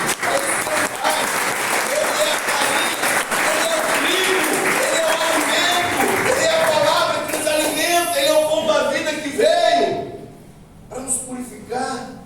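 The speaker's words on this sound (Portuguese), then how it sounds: "Você pode aplaudir o Senhor por isso, querido?" A church congregation applauds the Lord during a sermon, loud full applause with cheering voices mixed in, which tapers off near the end into scattered claps and talk.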